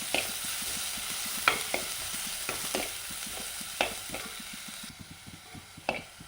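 Chopped shallots frying in coconut oil for a fish curry give a soft, steady sizzle, broken by light scraping clicks of a spoon stirring the pan at irregular intervals.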